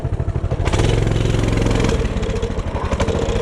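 A Tractor Supply mini bike's small engine revs hard and close, rising from a steady idle into a loud, sustained run, then settling into a choppy, pulsing putter with rattly clatter.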